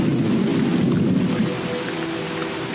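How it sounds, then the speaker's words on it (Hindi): Unseasonal storm rain in the northern Serengeti, a steady, dense hiss of heavy rainfall with a low rumbling undertone, constant and fairly loud throughout with no voices. "नॉर्दर्न सेरेंगेटी में बेमौसम बारिश कोई अनोखी बात नहीं है।"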